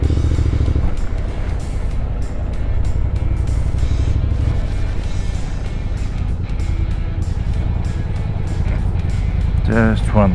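A motorcycle ridden through the European Alps, its engine holding a steady, loud, low rumble throughout, mixed with wind noise.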